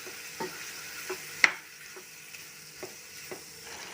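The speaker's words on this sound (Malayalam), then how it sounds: "എന്നിട്ട് ഇത് നല്ലപോലെ ഇളക്കി കൊടുക്കാം" Chicken gizzards with salt being stirred in a pan, a soft background sizzle punctuated by several scraping spoon strokes, one sharper clink standing out, no talking.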